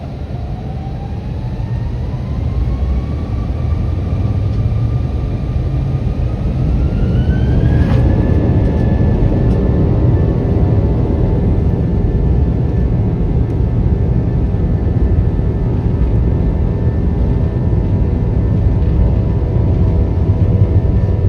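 A JetBlue jet airliner rolls down the runway for takeoff, with steady, loud engine roar and rumble heard from inside the cabin and a rising whine climbing as power builds, no voices.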